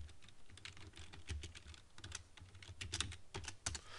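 A label gets typed on a computer keyboard, a run of rapid, fairly faint key taps over a low steady hum, with no voices.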